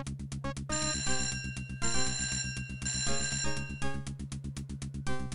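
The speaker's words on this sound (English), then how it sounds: "Really? A phone call?" Telephone ringing in the Simon the Sorcerer video game, a rapid repeating electronic bell-like trill in regular bursts with short gaps, bright and steady over a backing music tone.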